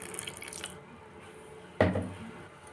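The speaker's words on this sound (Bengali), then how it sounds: "তো আমি এবার এতে জলটা দিয়ে দিলাম" Water poured into batter for pumpkin flower fritters, a brief splashing pour near the middle after a quieter stretch, close and alone.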